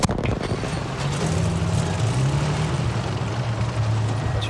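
A propeller aircraft drones steadily overhead in the Battlefield 5 video game, a continuous engine hum with a low tonal pitch that wavers slightly, filling the whole stretch at an even level with no talk.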